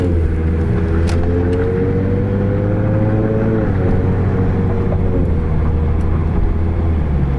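Ford Mustang V6 with its exhaust cut out, driving and pulling hard; a loud, close, continuous engine drone with shifting pitch throughout, no talking over it.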